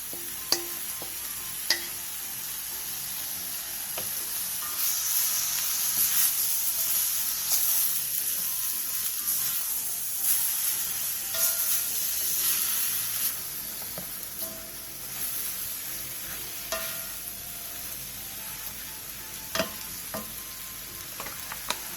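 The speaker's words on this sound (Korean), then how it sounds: "그 다음 버무린 재료들을 넣고 5분 정도 볶아주세요." Seasoned soup ingredients stir-fry in a pot, a continuous gentle sizzle with scattered sharp scrapes and clicks from stirring, swelling slightly in the middle, close and without talk.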